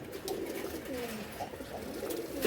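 Giribaz and Chila pigeons cooing softly in a loft, low repeated coos close by against a faint background.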